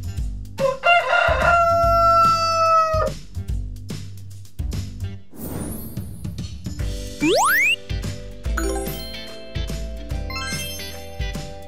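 A rooster crows loudly nearby, a long drawn-out call, amid clucking, chimes and other farmyard noises.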